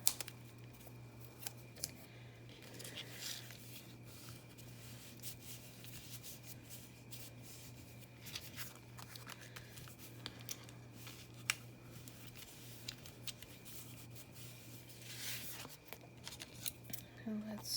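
Scissors trim the edges of paper in a quiet craft setting, giving faint, intermittent snips and rustling scattered through the clip against a steady low hum.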